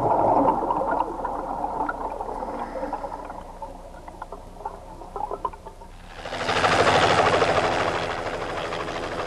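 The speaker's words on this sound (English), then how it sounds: "The helicopter has been summoned from the mainland." A helicopter's rotor and engine whir rise into a loud, broad roar partway through, following quieter rumbling and clatter, on a coral island shore.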